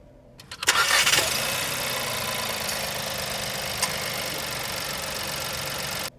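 A Skoda's engine cranks and catches after a push-button start, surging briefly before settling into a steady, even idle that continues to the end, close and fairly loud.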